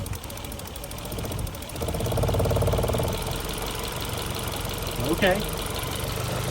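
An SR20 engine idles in an Infiniti G20 as a steady, close, low rumble that rises slightly in pitch midway, while a person speaks briefly over it.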